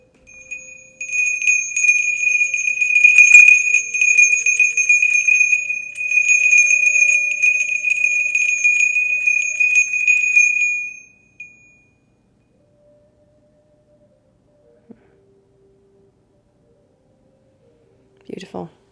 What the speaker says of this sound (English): Let's get a bell.